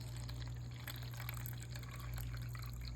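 A steady stream of cold water pouring into a container for pizza dough with biga, continuous and close over a low hum.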